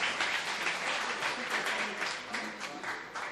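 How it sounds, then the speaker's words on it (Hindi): Crowd at a mushaira applauding in a steady, moderately distant patter of many hands, fairly soft and continuous throughout. "जोरदार तालियों से इस्तकबाल करें दोस्तों।"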